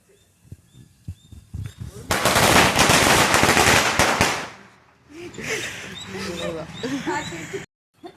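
Diwali firecrackers burst in a rapid rattling string, a loud dense volley of cracks after a few faint pops, followed by people talking and scattered smaller pops.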